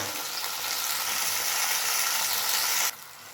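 Loud steady sizzle and hiss of fried vegetables in a pan as a little water goes in, bursting and crackling throughout, then dropping abruptly in level near the end with no talk.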